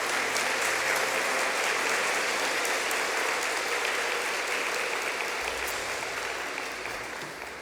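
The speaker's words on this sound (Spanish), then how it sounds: "si vas a aplaudirla, hacerlo fuerte para el Señor" A church congregation applauds loudly during a Spanish-language sermon on financial stability, a dense, steady wash of many hands that carries on throughout and tapers slightly toward the end, with no voices rising above it.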